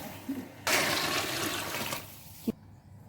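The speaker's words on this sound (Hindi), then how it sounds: "अब मैं इसमें डाल दूँगी पानी" Water poured into a cooking pot of browned beef for beef pulao, a steady splashing gush of about a second and a half, close and fairly loud, ending with a short knock.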